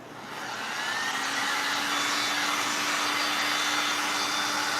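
A hair dryer whirs at a steady high pitch, drying paint on a thrifted cutting board. It starts up quickly and holds a loud, even, continuous blow with a faint tonal hum underneath, and nothing else is audible.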